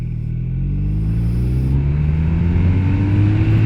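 A BMW R 1250 RT boxer-engined touring motorcycle accelerates hard, its loud, near engine note climbing steadily in pitch through the short burst without any talking.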